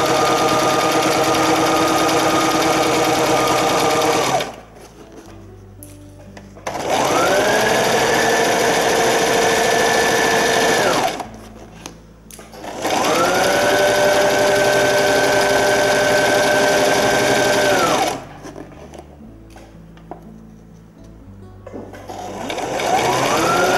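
Sewing machine stitching a corset seam in three loud, steady bursts of several seconds each, separated by short quiet pauses with faint handling sounds.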